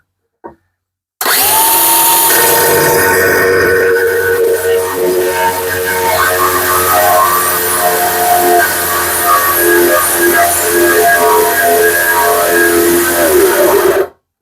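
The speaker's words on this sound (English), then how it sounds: "I can then start lifting the grinder level, making sure that we're in a good position" An angle grinder cuts porcelain tile during an en suite bathroom refurbishment, running as a loud, steady, high-pitched whine with a grinding edge for about thirteen seconds after a brief click, with no talking.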